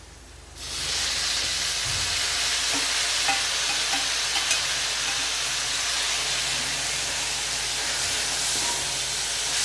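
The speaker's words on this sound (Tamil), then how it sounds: "இப்போ வெங்காயம் நல்லா வதங்கிடுச்சு நம்ம வந்து இப்போ தக்காளியை போட்டுடலாம்" Onions sauté in a pan for tomato chutney, starting with a sudden loud sizzle that settles into a steady, close hiss of frying, with faint stirring scrapes and no talk.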